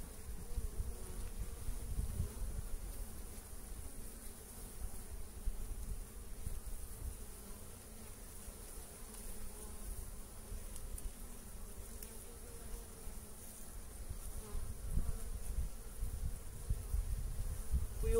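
Honeybees buzz continuously at an opened hive during March beekeeping work. The dense, steady hum stays moderately loud throughout, with no speech.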